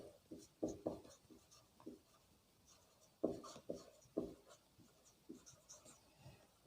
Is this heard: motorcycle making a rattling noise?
no